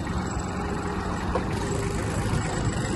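Hinomoto CX-19 (Kubota A-195) Japanese mini tractor engine running steadily as it pulls away in low gear, a continuous close, loud diesel rumble with no talk.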